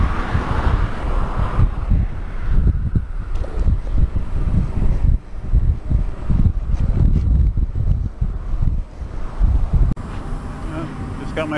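Steady headwind roars and buffets against the microphone while riding a Ninebot One electric unicycle outdoors, a loud, continuous low rumble with gusty surges throughout.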